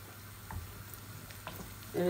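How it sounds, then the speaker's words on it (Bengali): Chicken frying in a pan gives off a soft, continuous sizzle with a few light clinks of stirring, quiet and close, and a brief louder sound right at the end. "দেখুন আমার চিকেনটা হয়ে যাচ্ছে, আর 5-6 মিনিট তারপর নামিয়ে ফেলবো।"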